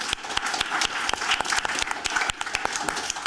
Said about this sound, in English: I suggest we give applause to the group.